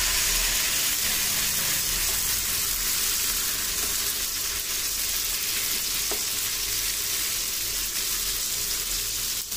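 Dibba rotti batter with salt, onion, green chillies, curry leaves and cumin cooking in hot oil, giving a steady, dense sizzle and crackle that runs the whole time, close and fairly loud, with no speech.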